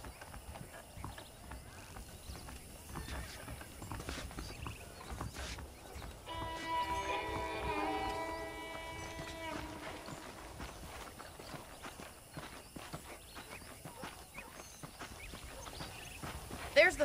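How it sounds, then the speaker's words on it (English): Horse hooves clip-clop steadily at a walking pace in the video game Red Dead Redemption, fairly faint, with a brief whinny-like tone in the middle and soft background ambience. "The horses are saddled up over here."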